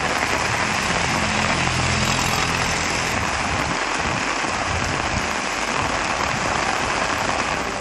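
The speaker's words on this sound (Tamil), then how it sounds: "மலைப்பகுதிகளில் இடைவெளி விட்டு மழை பெய்தது" Steady heavy rain pours down in Chennai, a dense, loud, continuous hiss of water falling on surfaces that never lets up and has no voices over it.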